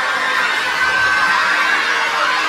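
A large crowd at a boxing event, many of them Filipino supporters, roars and cheers continuously, a dense steady wash of many voices filling the space.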